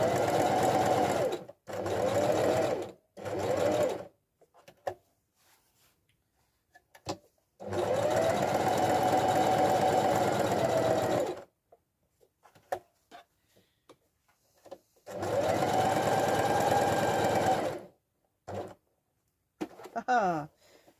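A sewing machine stitches a fabric pot protector in several bursts of steady close whirring, separated by quiet pauses with faint handling sounds.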